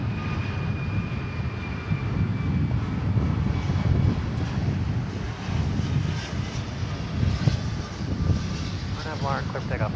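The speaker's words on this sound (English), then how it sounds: "it's a UPS flight. Here it comes." UPS cargo jet on Flight 775 from Houston landing at DFW at night, a broad steady engine roar that holds loud throughout, with faint radio chatter in the background.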